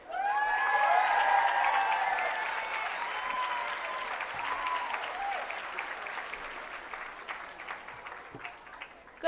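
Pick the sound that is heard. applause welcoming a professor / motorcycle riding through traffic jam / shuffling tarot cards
applause welcoming a professor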